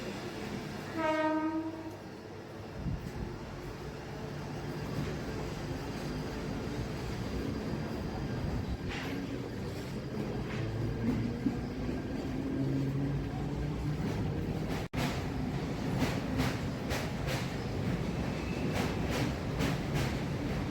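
A train passes through Sandhurst Road station, its horn sounding in a short rising series at the start. A long rumble of wheels and cars follows, steady and fairly near, with a sharp clack partway through and no talk.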